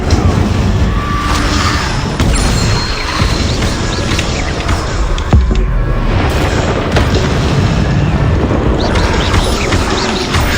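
Incendio fire spell cast in Hogwarts Legacy, a loud continuous roar of flame and booming impacts with sharp crackling bursts, dense and close throughout.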